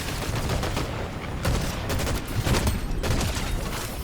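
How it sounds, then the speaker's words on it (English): Bursts of distant gunfire in Fortnite crackle in irregular volleys across four seconds, some shots rapid like automatic fire, with no talking over them. "it turns out I'm getting shot from far away"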